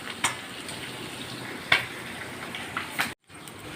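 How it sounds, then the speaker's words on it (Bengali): Potatoes fry in hot oil with a steady crackling sizzle, broken by a few sharp clinks of a utensil against the pan and a brief gap near the end. "আলুটাকে এই যে ভাজতে দিয়ে দিয়েছি"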